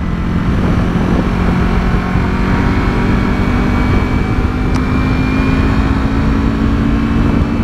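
A car engine revs after a manual downshift into fourth, heard as a loud, steady low engine drone with road noise from inside the cabin, no speech.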